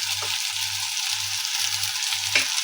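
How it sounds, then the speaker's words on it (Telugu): Tomato and onion frying with ginger paste in a pan, a loud, steady close sizzle with a low rhythmic scraping pulse from stirring, no voices. "టమాటో ఆనియన్ ఇవి బాగా ఫ్రై అయ్యాయండి ఇందులో కొంచెం తగినంత అల్లం పేస్ట్ యాడ్ చేసుకోవాలండి"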